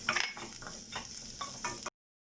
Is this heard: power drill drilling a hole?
no